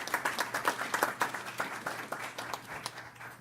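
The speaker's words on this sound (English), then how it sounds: "give them a applause" Applause from a council meeting audience for visiting students, a short burst of steady hand clapping by a modest crowd in an indoor chamber, moderately loud and fading slightly toward the end.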